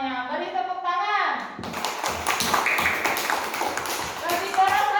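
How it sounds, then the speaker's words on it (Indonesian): Children clap their hands together in a classroom, a loose burst of taps mixed with lively voices, while an adult speaks over it near the start and end. "Beri tepuk tangan."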